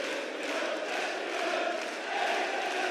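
Darts crowd at the European Darts Matchplay cheering and chanting for a player, a continuous roaring, sung crowd noise at moderate level with no clear breaks.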